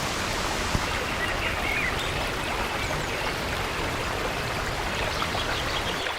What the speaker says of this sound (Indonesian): aliran sungai kecil yang mengalir tanpa henti